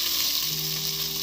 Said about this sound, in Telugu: మంచిగా ఫ్రై అయ్యిందని అనిపిస్తుంది.